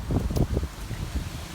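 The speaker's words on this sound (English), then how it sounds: "it's like really windy here" Gusty wind buffets the microphone, a low rumbling roar that surges and fades in uneven bursts, with no voices.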